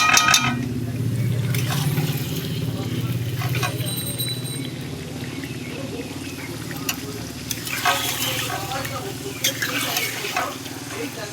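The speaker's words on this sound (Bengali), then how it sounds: "আমি ধীরে ধীরে মাংসটা কষাই ভালো করে" Mutton pieces with whole garlic being slowly stirred and fried in a pan for a spicy green-chilli mutton curry, a steady low sizzle with soft scraping and patter of the spatula throughout, close by.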